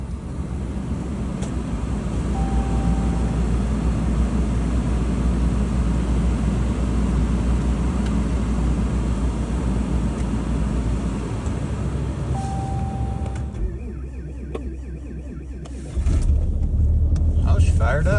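A diesel engine cold-starting in an Alaskan winter at about 1 degree after sitting two weeks under snow, a steady loud rumbling idle that changes character near the end, with a person talking over it.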